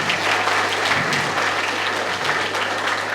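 An audience at a school awards ceremony claps for the school, a full, even burst of applause from many hands filling the whole moment.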